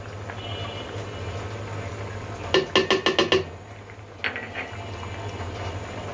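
Curry in a pot is stirred with a quick series of about five metallic scrapes and clinks, followed by another shorter clatter, over a low steady bubbling background.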